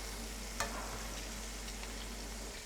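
Pieces of osso buco sizzle steadily in a pan of sottofritto made from carrot, celery and onion. The frying crackle is loud and continuous, with a few sharper pops and stirring clicks.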